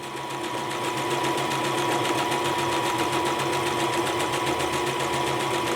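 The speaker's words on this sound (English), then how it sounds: "just sew a single stitch on regular cotton men's dress shirt material" A Brother Strong & Tough mechanical sewing machine stitching cotton dress shirt fabric, with a fast, even, rattling rhythm that runs steadily and loudly without pause.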